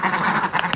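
Domestic ducks, a mottled brown breed rather than mallard, quack in a short, loud, close burst of overlapping raspy calls lasting under a second.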